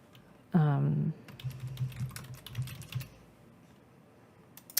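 Clicks of a computer keyboard as a title is entered into a reading list form, a light irregular run of keystrokes following a brief voiced sound at the start.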